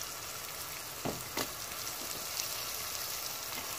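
Soaked dried fish (shutki) fries with spices in a pan, a soft steady sizzle with a couple of brief stirring clatters near the start, no speech.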